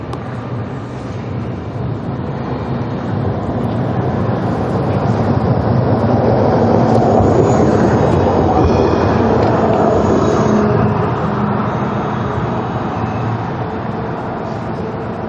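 A loud, sustained rumble of a tram passing close by on an Amsterdam street, swelling in the middle and easing off, with a faint high whine on top.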